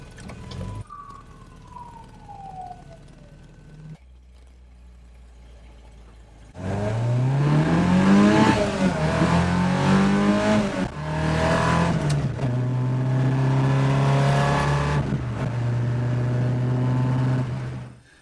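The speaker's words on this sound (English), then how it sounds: "There's so many cars on the road this evening" Cars pass on a busy evening road, one after another, heard from inside a Mk2 Ford Escort, with engine noise swelling and a siren-like wail rising and falling among the traffic.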